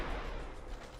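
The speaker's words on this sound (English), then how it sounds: "The British brought in a mortar down here." Mortar fire in a video game, a dense low rumbling burst of booming explosions, loud and close, filling the short moment without speech.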